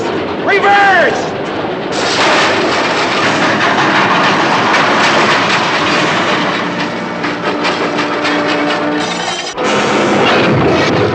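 A steam locomotive train in a 1950s film chase, loud and continuous with rumbling, clattering wheels and hissing, a voice briefly shouting over the din near the start.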